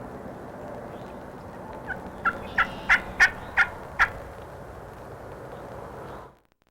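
Wild turkey gobblers gobble in spring woods, about six loud rattling calls in a quick series, some distance off, over steady outdoor background noise.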